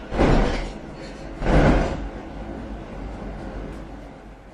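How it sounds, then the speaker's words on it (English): NYC subway 1 train doors sliding shut in two heavy thuds about a second apart, near and fairly loud, over a low rumbling station hum. "Stand clear of the closing doors."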